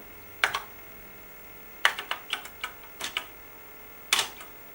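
Short bursts of typing on a Korvet 8010 computer keyboard, a few quick clicks at a time with pauses between, close and clear with no talking.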